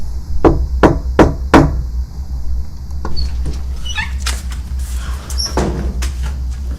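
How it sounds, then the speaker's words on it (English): Four quick, evenly spaced knocks rap on a door nearby, followed by softer scuffling and shuffling sounds. "a series of knocking sounds can be heard from somewhere nearby."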